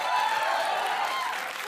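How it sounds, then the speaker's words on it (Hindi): A seated audience at a youth speaking event applauds, making a dense, sustained wash of clapping that fades slightly toward the end. "ताली बजाइए भाई इनके लिए"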